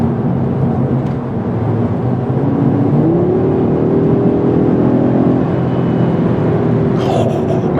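A 2025 Audi RS3 with its five-cylinder engine in RS individual mode accelerates hard, a loud steady roar heard from inside the car that climbs in pitch through the revs and holds near constant, with no speech.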